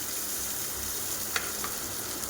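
Tomato paste frying in oil for a chole curry, a steady close sizzle with a couple of faint spoon scrapes as it is stirred, no voices.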